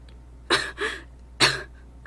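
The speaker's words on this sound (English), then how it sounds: "I've been coughing a lot and my throat hurts" Three short, raspy coughs close by, two in quick succession and a third after a pause, in a quiet room.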